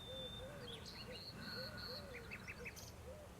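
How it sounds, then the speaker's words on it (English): A bird calls outdoors in a short, repeated pattern of chirping notes, fairly clear and steady above a constant background hiss. "I wonder what kind of bird that is."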